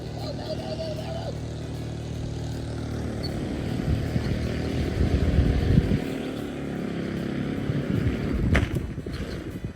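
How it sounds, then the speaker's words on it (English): A big motorboat's loud motor drones steadily and swells as it passes close by, with wind buffeting the microphone and faint voices in the background. "There's a big old boat with a very loud motor coming through"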